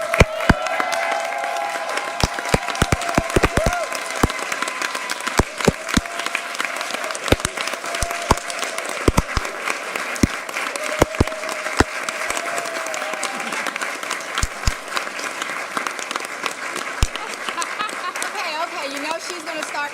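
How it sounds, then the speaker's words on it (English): A room rises for standing applause at a city council meeting, scattered sharp claps over a steady crowd murmur, with a voice talking through it and a few louder individual claps punctuating the stretch. "Let's stand and give her a round of applause."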